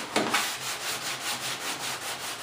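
Steady back-and-forth sanding strokes rasp across a painted surface near corners, a rhythmic rubbing scrape repeating about every quarter second, close and fairly loud with no talking.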